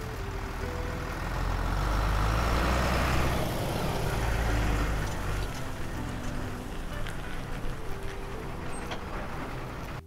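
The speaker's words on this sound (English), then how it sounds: "That's a vehicle transport truck." A vehicle transport truck rumbles past, a loud broadband engine and road roar that swells over the first few seconds and then eases into a steady, slowly fading drone.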